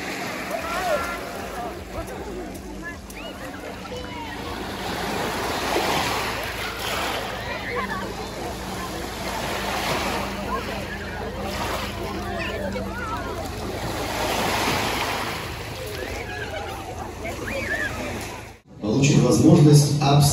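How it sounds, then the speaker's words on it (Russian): Sea surf washing onto the shore in slow repeating swells of foamy hiss, with wind buffeting the microphone and people talking over it. "Море, море, пенный шелест."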